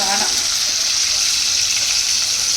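Salted prawns frying in a pan, a loud, continuous hissing sizzle that stays close and steady for a couple of seconds without pause.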